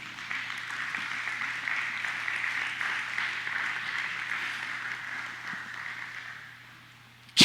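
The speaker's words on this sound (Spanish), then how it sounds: "Denle un fuerte aplauso al Rey." A church congregation at a Sunday Spanish-language service applauding, a steady sustained wash of clapping that fades slightly before ending.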